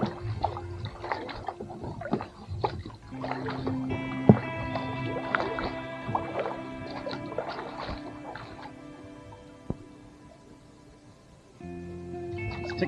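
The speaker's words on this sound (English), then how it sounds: "Beautiful afternoon for a paddle." A kayak paddled on calm water, with rhythmic paddle strokes dipping and splashing at a regular pace close by. Faint low tones sit underneath, and there is no clear talking.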